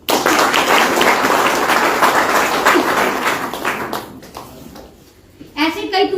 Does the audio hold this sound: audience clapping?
yes